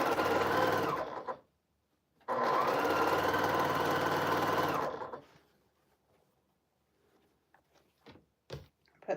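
Sewing machine stitching quilt cornerstones into place, running in two loud steady bursts of rapid mechanical whirring with a pause between, then stopping to quiet handling clicks and light rustles.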